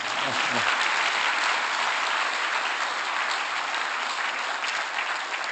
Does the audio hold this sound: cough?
no